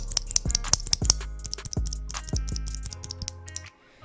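A single Gateron optical blue mechanical keyboard switch pressed repeatedly: a rapid series of crisp, bright clicks at irregular spacing, close and fairly quiet, over a faint low hum that cuts out near the end.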